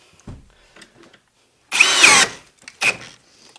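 A cordless drill with a 21,700-cell compact battery bores into wood in a brief, loud whir lasting about half a second, followed by a shorter second burst after a pause.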